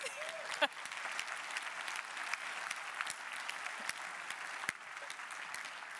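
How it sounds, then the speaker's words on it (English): Sustained applause from a conference audience at a mobility plenary opening in Utrecht, a dense, even patter of many hands clapping with a few sharper claps standing out, steady throughout. "One loud applause for Senna Maatoug, please"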